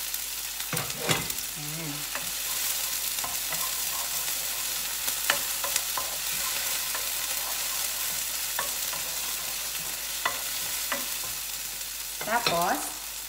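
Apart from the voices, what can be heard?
stirring chili in a frying pan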